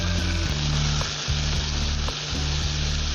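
Tomatoes sauté in a pan for sundaikkai kuzhambu, giving a loud, dense, steady sizzle with a low droning hum underneath and brief dips where the spoon stirs, no voices.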